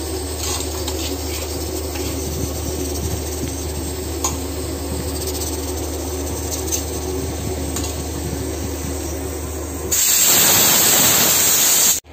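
Shingi fish, salted and frying under a lid in a pan, gives a steady low crackle and hum for about ten seconds before a sudden loud hissing sizzle surges up near the end.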